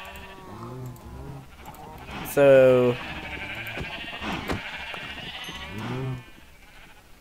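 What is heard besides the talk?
sheep bleating in Minecraft video game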